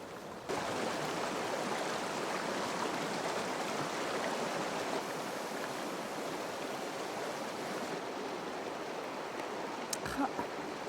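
A river flows steadily nearby in a wild Colorado setting, a broad, even rush of water that holds at a constant level throughout, with a couple of faint clicks near the end.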